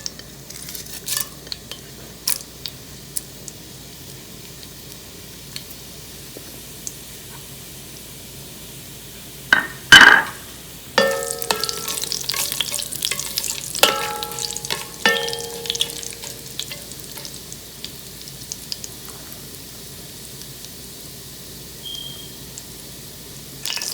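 Dry spices, including green cardamom, black pepper, cloves and cumin seed, frying for chicken biryani. A sharp burst of sizzling follows a quiet stretch, then a spoon scrapes and clinks against the pot while the oil crackles on.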